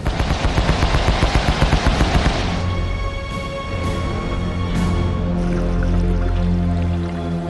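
Naval gunfire from the USS Pittsburgh with the USS Flaherty in a World War II submarine attack: a loud, rapid burst of repeated shots for about two and a half seconds, then a rumbling decaying roar and a ringing mechanical tone.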